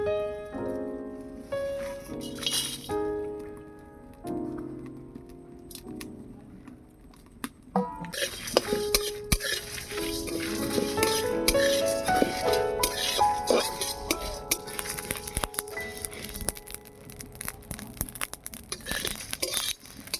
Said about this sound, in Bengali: উনুনটা জ্বালিয়ে কড়া বসিয়ে দিয়েছি, এবারে মশলাগুলো ভেজে নেব